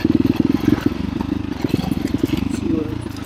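A KTM 350 XCF Factory Edition dirt bike engine runs close up while riding on singletrack, a loud rapid pulsing thump and clatter that surges and holds steady throughout.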